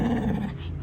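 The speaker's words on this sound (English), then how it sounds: "We got growly bears going on. The dogs are at it again." Dogs growling and snarling together in a low, continuous rumble, fairly close and steady for the whole short moment, with no talking.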